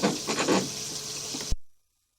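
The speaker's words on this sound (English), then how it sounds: "ran a little bit of water in our kitchen sink just to help us try to keep our camera clear" Water runs from a kitchen sink tap in a steady broadband gush for about one and a half seconds, then cuts off abruptly into silence.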